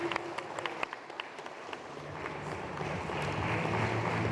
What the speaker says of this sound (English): Can we have a few round of applause, please?